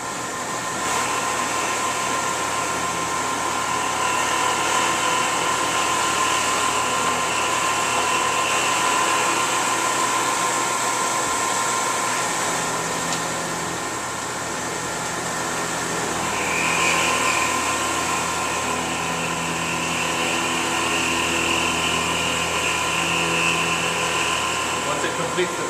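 A CNC milling machine cutting a circular part, with a steady loud mechanical whine and high tonal hum from the spindle and feed, continuous throughout with slight shifts in pitch and level.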